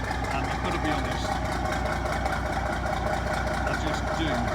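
A Diamond T truck engine running through a straight-through exhaust, a steady, loud, continuous rumble that holds even from start to finish, close to the microphone, with no talk over it.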